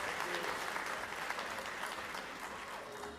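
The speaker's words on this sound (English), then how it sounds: "Big round of applause for Miss Buhai." Audience at a school district Teacher of the Year award ceremony claps steadily in a dense, even burst of applause that fades slightly toward the end, with a faint voice underneath.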